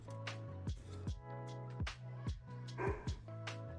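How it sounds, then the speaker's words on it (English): Short, sharp barks from a dog, six or seven in an irregular series, quiet and set against steady background music, with no one speaking. "My guy, he's been barking."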